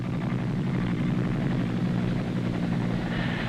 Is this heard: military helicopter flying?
yes